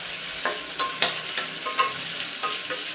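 Carrot pieces and whole spices frying in a pressure cooker for vegetable pulao are stirred, a steady sizzle punctuated by several rhythmic scraping clicks of the spoon against the pot, without talk.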